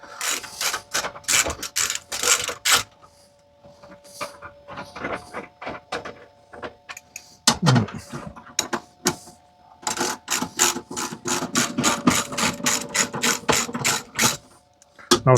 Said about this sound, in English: it should do up with this ratchet fine